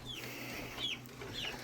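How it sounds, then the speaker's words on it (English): Chickens in a backyard flock give a few soft clucks and chirps, faint and far off over a low background hum. "This is the only set of chickens we've had that are scared to death of everything."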